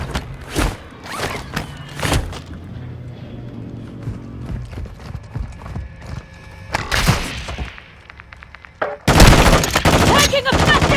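Video game gunfire from an M16 and other weapons: sharp bursts and single shots scattered through the clip, then a loud sustained volley at the end, with other game sounds between.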